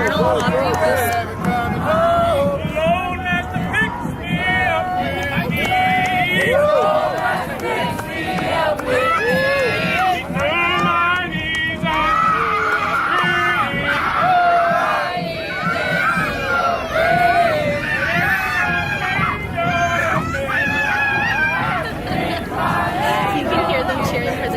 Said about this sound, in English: You can hear them cheering for their bigger brother.